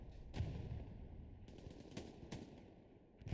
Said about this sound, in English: nice positioning there from the MG to take Lenny out